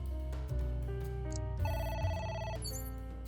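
A telephone ringing in the video game AI: The Somnium Files, a repeated electronic ring tone layered over soft game music, steady and moderately loud, with no voices.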